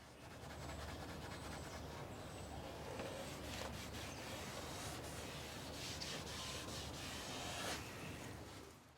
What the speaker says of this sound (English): applicator pads which, once the bottle has been dabbed onto, are used to work the product over the affected trim